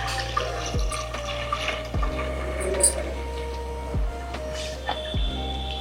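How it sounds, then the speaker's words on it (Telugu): Raw milk is poured into a pan for boiling, giving a steady liquid pour close by with a few sharp clicks and knocks, a voice speaking briefly underneath. "ముందుగా పాలు కాచేసుకుందాం అండి. పాలు పోయండి."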